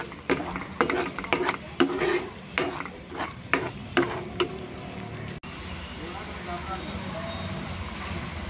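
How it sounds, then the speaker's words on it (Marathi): Fish curry masala for a Malvani mandeli rassa sautéed in oil, with repeated sharp spoon-on-pan stirring scrapes over a steady sizzle that settles into continuous frying hiss; spoken voice appears under the cooking sounds. "चांगलं तेलात परतून घेऊयात हे आपण"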